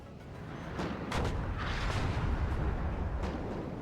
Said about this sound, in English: Artillery's aiming at good positions.